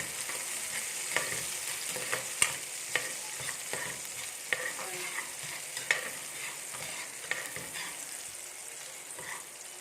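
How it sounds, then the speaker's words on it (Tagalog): Meatballs and squid balls sautéing in a pan for sotanghon soup: a steady, moderate sizzle with repeated clicks and taps of a spatula stirring, close but not loud, with no talking. "ginisa ko po na yung, sinutoy ko na yung yung meatballs at saka yung squid balls."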